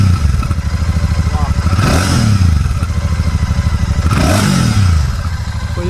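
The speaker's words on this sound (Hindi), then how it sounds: "अब अगर इसको रेव करेंगे तब इसका एग्जॉस्ट नोट आएगा।" Royal Enfield Classic 650 motorcycle revved twice from idle, each blip a swelling exhaust roar that rises and falls back to a steady thumping idle, loud and close.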